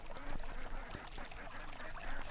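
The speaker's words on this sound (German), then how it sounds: "Sieh mal, die Enten." Ducks quack repeatedly in a scene from a 1975 German radio drama, with close, bunched calls over a steady noisy background and no talking.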